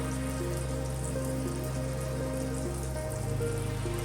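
Unniappam batter frying in oil in an appam pan, a steady dense crackling sizzle like rain on a surface, close and continuous with no talking.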